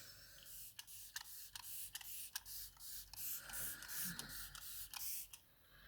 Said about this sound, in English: as I breathe out, I'm going to spritz down across the face